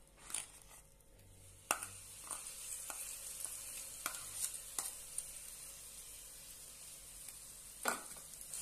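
A ground paneer mixture frying in ghee in a hot pan, with a soft steady sizzle under repeated sharp scrapes and taps of a spatula stirring, close and fairly quiet, no speech.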